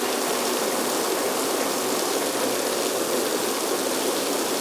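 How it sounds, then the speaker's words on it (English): Water sprays steadily from a theatrical stage rain rig fed by a tank, making a continuous broadband hiss and patter like a downpour, close and even throughout with no voices. "This is theater rain."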